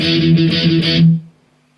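Distorted electric guitar chugs through the opening chords of the chorus in steady downstrokes, loud and close, then cuts off abruptly and rings out into near silence.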